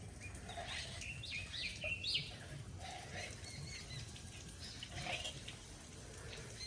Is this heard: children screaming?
no